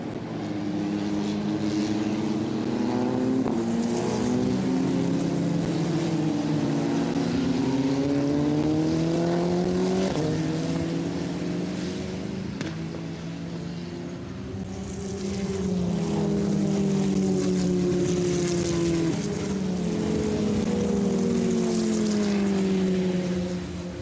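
Formula Regional race cars rumble around the Misano circuit, engines droning with rising and falling pitch as they pass and shift, loud and continuous for the whole stretch.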